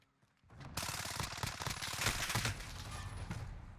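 Rapid automatic gunfire from the Fennec in the Modern Warfare video game starts abruptly and continues as a dense, loud, unbroken rattle of shots for about three seconds.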